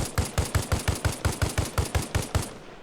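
An M21 rifle in 7.62x51 fires in the video game Arma Reforger, about thirteen rapid evenly spaced shots in a fast rhythmic burst, loud and close.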